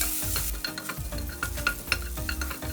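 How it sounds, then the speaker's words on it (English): Sliced onion dry-frying in a pan with no oil, a steady close sizzle broken by frequent scraping and stirring knocks over low hum, no talking. "Fry the sliced onion without adding oil to the pan"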